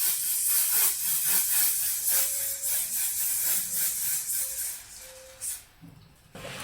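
One Size Satin Until Dawn setting spray misted onto a face in several short hissing bursts, close and fairly loud, with a quieter pause near the end.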